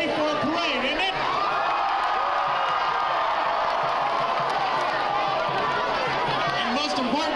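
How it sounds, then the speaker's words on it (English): A large crowd lines the Lancer Day Parade, a community pep-rally event, cheering, whooping and chattering in a dense, continuous roar, with voices mixed through the noise. "What a crowd!"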